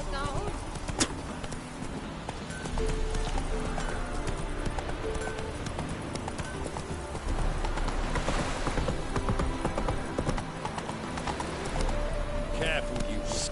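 Hooves of Roach, a horse in The Witcher 3 video game, clip-clop in a steady galloping rhythm through a busy town scene around Novigrad, with in-game voices talking over it and light patter in the background.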